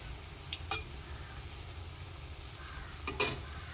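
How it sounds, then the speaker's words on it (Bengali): Ash gourd pakoras coated in gram flour batter fry in hot oil with a soft, steady sizzle, broken by two brief louder clatters of the pieces being moved or lifted. "একটু কড়া করেই ভাজতে হবে"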